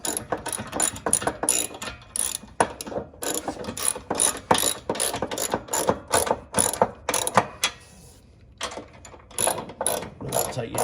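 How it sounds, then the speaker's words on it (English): Ratchet tightening ZroadZ rock slider bolts on an off-road vehicle: rapid bursts of close, loud clicking repeat in short strokes, with a brief pause before the clicking resumes. "I'm just tightening these up as tight as I can"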